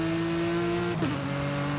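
A Porsche GT2 RS with a rear-mounted engine launches in Forza Horizon 5. The engine holds a steady, strained drone, with a quick shift or tire chirp around the midpoint before it pulls on.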